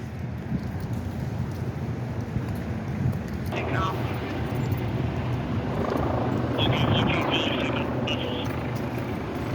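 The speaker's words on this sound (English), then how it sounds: "So now you got like 2 choppers in the sky" Two helicopters in the sky over a protest, a continuous distant rotor drone under wind noise and outdoor ambience, with voices and a brief higher tonal sound partway through.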